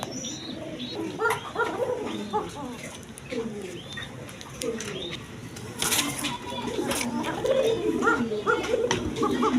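A female pigeon on a pigeon farm gives repeated soft, throaty coos in short phrases, fairly close, while someone speaks over much of it and faint chirps sound in the background.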